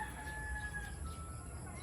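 A young inbred gamefowl rooster crows faintly at a distance, a single drawn-out call over a low, steady background hum.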